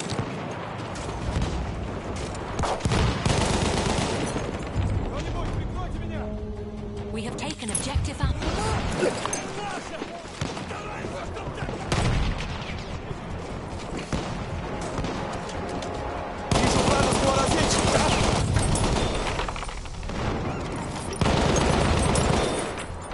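Machine gun fire rattles through a Battlefield 1 match, dense bursts of shots and battle noise running almost nonstop, with voices talking over the chaos.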